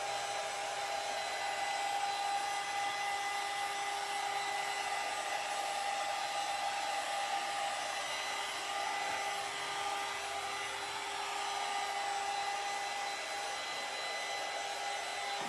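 A hair dryer blowing steadily on a decoupaged vanity during a makeover, a loud continuous whirring hiss with a fixed motor tone that runs unbroken and alone throughout.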